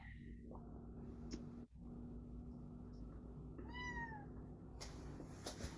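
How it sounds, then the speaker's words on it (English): A house cat meows a few times indoors, a short rising-and-falling call standing out clearly over a steady background hum, with a brief earlier chirp. "Yeah, that's our cat."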